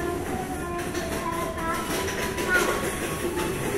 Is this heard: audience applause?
no